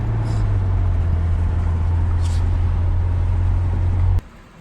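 A car cruises along a country road at around 40 to 50 mph, its steady low engine drone and road rumble constant and close until the sound cuts off abruptly near the end.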